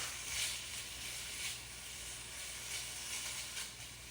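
Pieces of chicken stir-fry in a pan with a soft, continuous hissing sizzle, quiet and even throughout, with gentle swells now and then and no one speaking.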